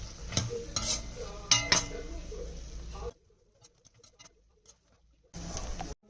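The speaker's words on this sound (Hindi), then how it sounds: "तो यहाँ पर मैं ड्राई फ्रूट्स भून रही हूँ" Dry fruits roasting in a pan for winter gond and date laddoos, with quick stirring scrapes and light clatter against the pan for a few seconds, a near-silent pause, then another burst of stirring.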